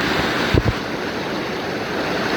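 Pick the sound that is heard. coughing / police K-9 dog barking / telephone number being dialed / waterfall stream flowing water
waterfall stream flowing water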